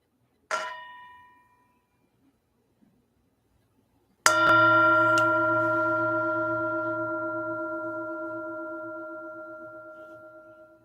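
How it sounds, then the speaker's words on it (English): A meditation bell used in mindfulness practice gives a short faint chime, then after a pause one clear loud strike that rings with a long, slowly fading sustained tone, alone in a quiet room. "Enjoy, if you wish, the sound of the bell."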